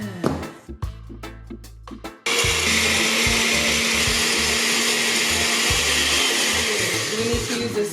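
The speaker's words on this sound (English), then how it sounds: "we will blend all these ingredients up until smooth" A blender whirs loudly and steadily through a batch of raw vegan pasta sauce ingredients, kicking in after a couple of seconds of quieter handling noises and running continuously, close and dominant, to the end.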